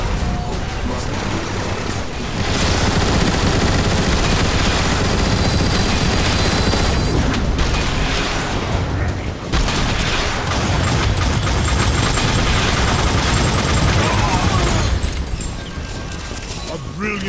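Turret gunfire in a Transformers: War for Cybertron battle scene: dense, sustained automatic bursts with heavy booms and crashes, loud and continuous across the whole stretch, mixed with battle noise.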